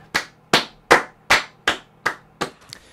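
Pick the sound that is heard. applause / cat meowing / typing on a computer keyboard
applause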